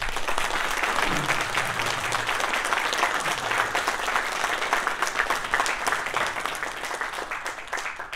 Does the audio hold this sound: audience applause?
yes